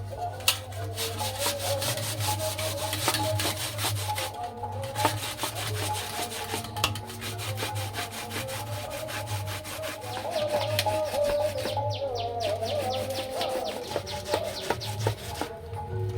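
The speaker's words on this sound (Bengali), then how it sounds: "এখানে একটা ফুটো থালা নিয়েছি আর এই আমগুলো সব কুড়ে নেব।" Peeled raw mangoes are grated by hand against a perforated metal plate, a steady close rasping scrape repeated continuously in quick strokes for a long stretch with no speech.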